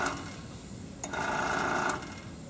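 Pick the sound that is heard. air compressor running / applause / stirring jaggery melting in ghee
air compressor running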